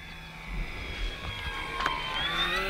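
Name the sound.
vintage airplane in flight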